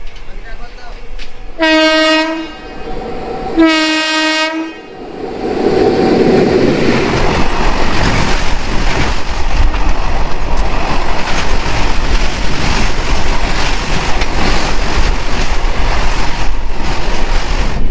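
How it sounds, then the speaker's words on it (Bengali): The Howrah–Katihar passenger train sounds two long loud horn blasts, then rolls past with a steady heavy rumble and rattle of carriages that fills the rest of the scene. "এই যে ট্রেনটা দেখছো এটা হচ্ছে হাওড়া কাটিহার"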